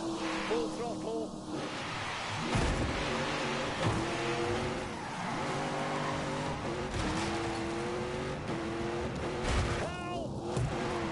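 Top Gear presenter's car driven at full throttle, a loud engine roar with rising and falling revs and tire noise, under excited shouting voices throughout.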